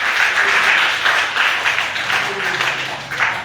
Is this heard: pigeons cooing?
no